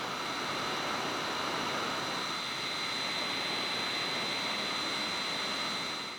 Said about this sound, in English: As we have an active cooling fan here, there is some noise due to the moving parts